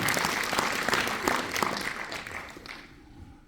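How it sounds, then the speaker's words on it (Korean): An audience at a book launch event in Hwaseong claps in a burst of warm, dense applause that gradually thins and fades out toward the end. "박수 한번 보내주시기 바랍니다."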